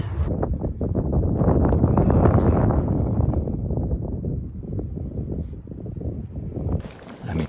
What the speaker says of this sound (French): Alors là, c'est la tempête.